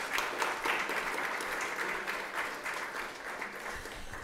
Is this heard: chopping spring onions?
no